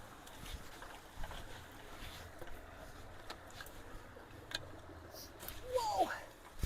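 Water rushes through a recently unclogged roadside culvert, a low continuous churning flow with scattered splashes and knocks, rising toward the end, with faint wind buffeting the microphone.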